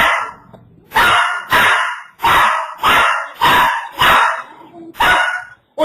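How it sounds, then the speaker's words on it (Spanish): A dog barks loudly and close by in a home, about seven sharp barks in an irregular series with short gaps, no talking over them. "Mucho perro."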